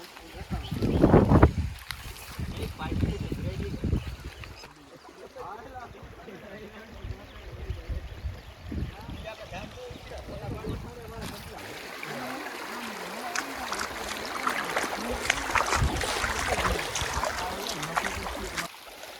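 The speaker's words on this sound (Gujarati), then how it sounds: "એક નદી આવી છે ને એ નદી પાર કરીને જવાનું છે. તમને પાણી કેવું આવે છે એમ બતાવું" River water flows and splashes during a crossing on the way to a Khodiyar Mataji temple. The rushing, trickling sounds are close and uneven, with voices talking at moments and louder bursts of churning water.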